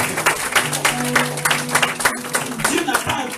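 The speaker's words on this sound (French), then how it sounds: "Quelqu'un acclame Dieu." A church congregation cheers and claps for God in a steady, dense wash of applause and voices, sustained throughout.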